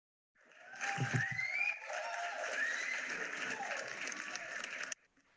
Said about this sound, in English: I'm just going to be playing this applause for myself all the time now that I've found it.